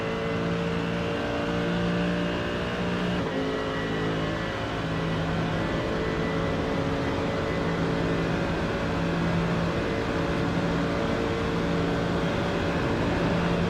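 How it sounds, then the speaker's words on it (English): V8 engine of a GT3 race car in iRacing on the Nürburgring straight, a steady, loud, sustained roar with harmonic drone holding near-constant pitch throughout, heard alone. "and let's just listen to that V8 roar."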